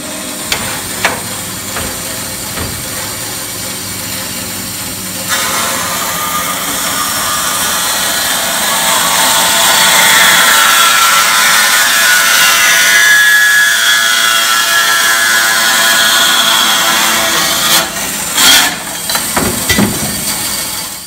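Stamped sheet metal for a racing exhaust is cut while held in a jig, a loud sustained hissing, grinding roar that starts after a few seconds, builds and holds, then gives way to a few sharp knocks near the end.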